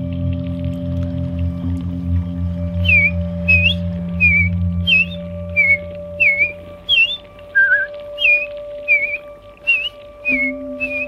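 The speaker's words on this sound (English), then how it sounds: "Song of the American Robin." An American Robin sings a run of short, clear whistled phrases with brief pauses between them, fairly close, over a steady low engine-like hum.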